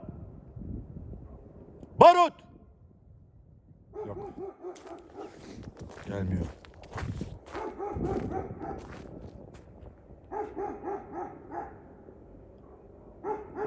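A Pitbull-mix dog gives a single loud bark early, then sharper yips and barks come in bursts later, mixed with a person talking and outdoor noise.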